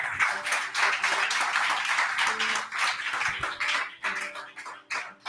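A church congregation applauds, with steady close clapping that rises and falls unevenly over several seconds and thins toward the end, mixed with faint voices and music underneath.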